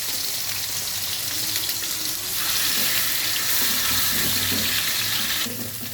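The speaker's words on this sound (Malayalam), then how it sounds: "നമുക്ക് ചിക്കൻ ഇതിലേക്ക് വയ്ക്കാൻ ഗ്യാസ് കുറച്ച് വെച്ചിടുക" Kashmiri-style chicken pieces frying in a pan over lowered gas, giving a steady hissing sizzle throughout that grows slightly louder midway, with no talk.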